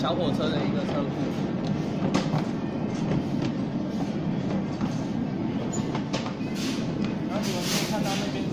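A small tourist train runs past its garage at the old Qiaotou sugar factory in Kaohsiung. Its rolling rumble and rhythmic clickety-clack continue throughout, and people talk over the moving train.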